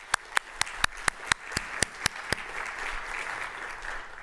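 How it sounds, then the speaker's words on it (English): Applause at the 2021 Norman Borlaug Lecture, an in-person event, greets the sponsors: a run of about ten crisp, evenly spaced claps close by over softer crowd clapping that carries on after them. "A round of applause for our sponsors."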